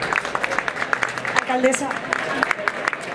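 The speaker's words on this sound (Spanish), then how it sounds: "Un fuerte aplauso, por favor." An audience at a Naviera Armas Trasmediterránea stand at the Fitur trade fair claps for the mayor of Gandía, a crisp, brisk patter of hands mixed with a voice speaking over it.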